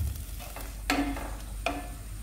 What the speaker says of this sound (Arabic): راني درت حبيبة تاع البصل نخليها تتقلى هي الاولى